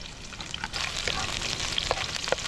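Garlic frying in a pan while cooking squid cuttlefish, a soft steady sizzle with light crackles and pops and a few stirring scrapes, close and fairly quiet.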